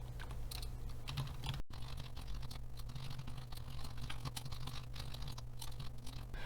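Steady, close computer keyboard typing with dense clicks throughout, entered in PowerPoint, over a low constant hum and with a brief dropout near the start.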